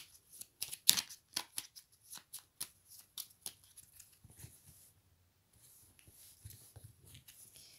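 Oracle cards being shuffled by hand for a reading, giving a quick series of soft, crisp riffles and taps, close and fairly quiet, that thin out into lighter handling noises toward the end.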